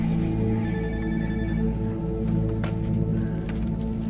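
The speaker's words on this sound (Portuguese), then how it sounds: "o telefone não para de tocar" A telephone rings with one short electronic trill burst, mid-loud, over a steady low background hum with no voices.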